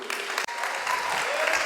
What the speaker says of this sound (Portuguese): Vocês podem aplaudir, gente, o nosso